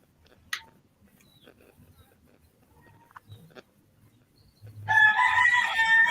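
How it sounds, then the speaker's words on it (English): After a mostly quiet stretch with faint scattered sounds, a rooster on a farm lets out a loud, drawn-out crow that fills the last second of the clip. "most of you hear some chickens and that in the background"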